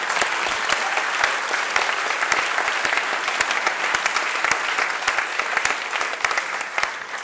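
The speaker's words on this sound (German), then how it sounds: "Ja, da kann man klatschen." Sustained applause from a crowd at a political session in Dresden, thick continuous clapping with sharp individual claps standing out, steady and loud throughout.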